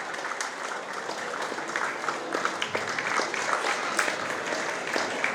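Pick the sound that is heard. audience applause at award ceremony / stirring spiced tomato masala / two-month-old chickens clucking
audience applause at award ceremony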